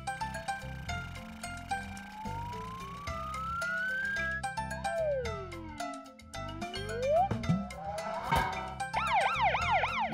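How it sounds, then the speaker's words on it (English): A cartoon ambulance siren over background music, with rising and falling electronic wails that swoop and sweep, ending in a fast repeating warble, loud and close. "That's a loud and clear siren."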